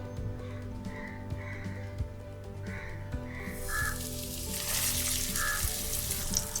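Mackerel coated in spice marinade and cornflour frying in oil, a close sizzle that grows louder and hissier partway through, with faint background hum.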